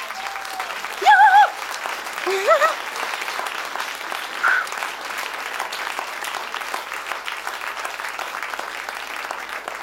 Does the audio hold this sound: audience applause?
yes